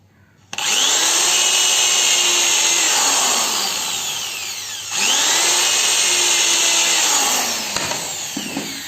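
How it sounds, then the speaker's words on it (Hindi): An electric power drill bores into the base of a home electric board, its motor whining loud and close in two long sustained runs separated by a brief pause. "हमने यहाँ पे ड्रिल कर दिया।"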